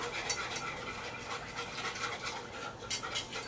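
A wire whisk breaking roux into milk: a quiet, continuous run of rapid scratchy swishes with a wet edge, close by, steady throughout with a few sharper strokes toward the end.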